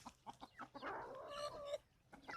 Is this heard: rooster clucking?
yes